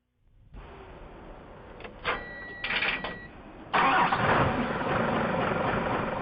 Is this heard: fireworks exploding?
no